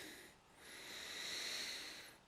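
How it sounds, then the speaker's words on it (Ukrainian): One slow, drawn-out breath during a strength yoga exercise, airy and close, swelling gently then fading. "Дух дихаємо дуже повільно."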